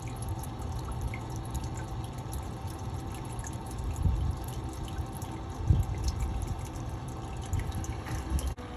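Gentle water trickles and drips steadily through a Goldrop gold panning device separating dense Nome beach sand into magnetite, a soft continuous flow with faint splashes and no talking.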